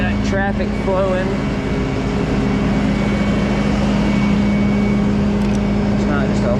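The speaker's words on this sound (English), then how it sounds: "Traffic flowing." Road traffic rushes past in a steady, loud broadband roar of passing cars and trucks, continuous throughout with a low engine hum and no pauses.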